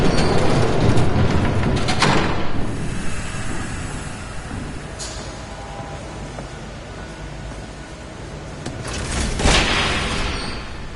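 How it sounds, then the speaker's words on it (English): Approaching train in a Batman Telltale game: a broad, heavy rumbling roar that swells, eases off in the middle and rises again with booming bursts near the end. "There's a train coming. Take cover."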